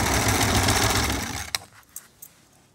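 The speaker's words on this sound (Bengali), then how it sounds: "সেলাই দিব" Sewing machine running fast along a kameez neckline, a loud steady rattle that stops abruptly, followed by a few faint clicks and handling noises.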